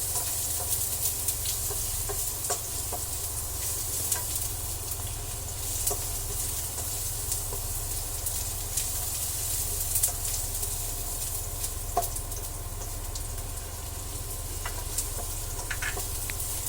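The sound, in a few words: ginger sautéing in oil in a pan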